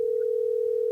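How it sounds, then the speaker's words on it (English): A telephone dial tone hums at a single steady pitch, continuous and unbroken, fairly loud and heard alone. "Maybe we'll call her on the phone."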